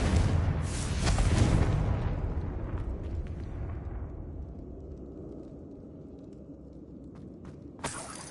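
A Confringo fire spell bursts in Hogwarts Legacy with a loud booming explosion that rumbles and fades over several seconds, followed by a few faint footstep-like taps and a sharp final pop.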